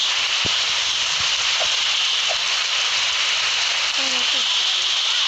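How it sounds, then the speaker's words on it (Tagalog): Heavy rain pours down steadily outdoors as a flood sets in, a dense, even hiss that runs unbroken through the whole stretch, with a few faint, brief knocks and voices in the background. "Grabe, umuulan na."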